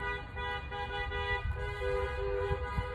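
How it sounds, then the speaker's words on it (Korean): Many car horns sound together in a steady, layered blare across a city street, continuous and moderately loud with faint traffic rumble beneath, no talking. "수십 대 차가 이게 지금, 지금 계속 지금 빵빵빵빵 그런 거예요"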